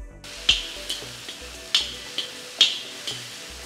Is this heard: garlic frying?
yes